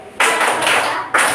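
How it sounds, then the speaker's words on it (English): Hands clapping in a classroom science demonstration on magnets, starting abruptly after a quiet moment and running as a dense burst of claps before a brief dip and a second loud burst. "Kawal ubit, clap, clap, clap, clap, clap, clap, shake, shake"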